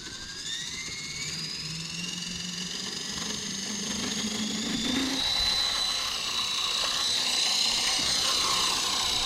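The rotor of an H30 radio-controlled model helicopter spins up, a rising high-pitched electric whine that climbs and steadies into a continuous buzzing hum, close and without talk.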